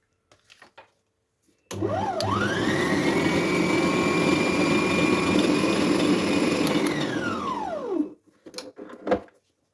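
An electric mixer blends a full glass of table oil into dough for honey cookies, its motor whirring steadily for about six seconds, rising in pitch as it starts and falling as it stops, close and alone.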